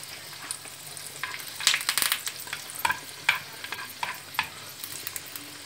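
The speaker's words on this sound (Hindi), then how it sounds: "थोड़ा लहसुन हो रहा देखिए, थोड़ा करी पत्ता डालूंगी मैं" Garlic and curry leaves sizzle in hot oil for a Hyderabadi tadka, crackling in brisk irregular pops and bursts up close, with no voices.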